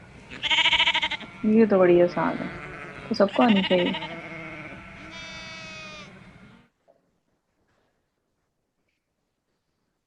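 A goat bleats in a children's animal-sound guessing game, several wavering, nasal cries recorded up close, partly overlapped by a person talking.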